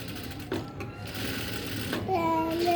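A sewing machine stitching a blouse runs in short, rapid mechanical bursts with brief pauses, fairly quiet and close, while people talk intermittently.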